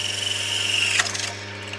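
A drill turns a plug cutter into wood for a medieval recorder plug, a close, steady whine with a brief scraping surge as the cutter bites, no talk.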